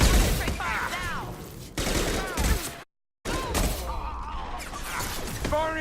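Rapid gunfire fills a Mass Effect 2 firefight as a Krogan raid closes in, loud and dense, with bursts layered over combat noise and voices, cut by a brief silent gap midway.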